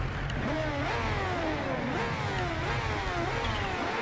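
Kawasaki H2R engine in the racing game Ride 2, revving up and down in repeated rising sweeps with shifts, a steady loud mechanical whine throughout and no talking.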